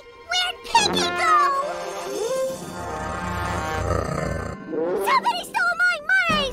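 A cartoon cat chases the babies in Rugrats, with meows, yowls and growling cries mixed with excited character voices and a loud rumbling scramble in the middle.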